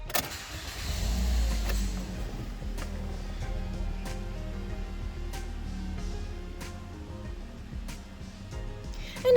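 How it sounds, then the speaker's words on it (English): A 2014 Toyota Corolla LE is started with a key; the engine cranks and catches with a burst, then settles into a steady low idle heard from inside the car, with a few faint clicks. "I'll now just get inside this vehicle and turn it on for you."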